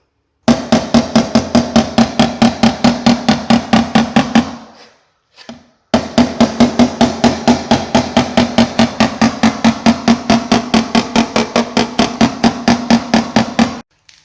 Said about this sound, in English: So we've got to hammer it out and get it fixed up